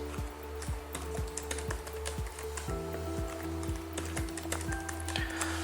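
A password is typed on a computer keyboard: quiet, evenly spaced key clicks tap along in a steady rhythm over a low background hum.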